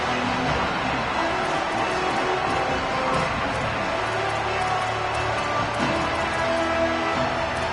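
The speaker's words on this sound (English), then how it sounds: "This crowd ready to make its presence known." A football stadium crowd roars in a dense, continuous wash of cheering and murmur, steady and loud throughout without a clear break.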